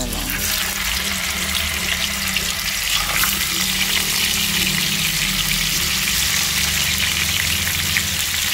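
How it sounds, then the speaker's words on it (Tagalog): Steady, continuous sizzling of tofu frying in hot oil, with some clattering and a faint watery hiss throughout; no talking. "Prito na po natin tokwa natin"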